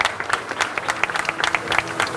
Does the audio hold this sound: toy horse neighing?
no